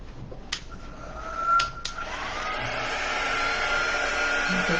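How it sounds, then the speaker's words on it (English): A hair dryer switching on after a few clicks and beeps, then blowing with a steady, loud whooshing whir close by. "now I have a dryer."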